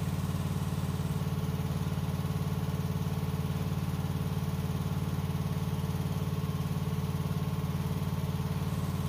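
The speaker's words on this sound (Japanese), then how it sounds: "今はね、エンジンをかけただけで、アイドリング状態のまま運転をしているところです。" A snowblower engine, used as a generator, idles steadily and evenly, a continuous close low rumble with no voices.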